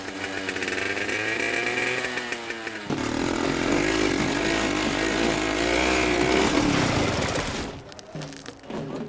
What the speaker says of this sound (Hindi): ये बाइक का है? मुझे तो लगा जैसे कोई ग्राइंडर चल रहा हो।